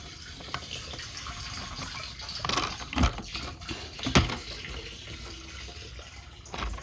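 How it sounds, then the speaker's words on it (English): Diesel fuel poured back into the tank of a Ram 3500 pickup during a fuel lift pump replacement, a faint liquid trickle with a few louder splashing gulps spaced a second or so apart. "But pour the diesel right back in the tank."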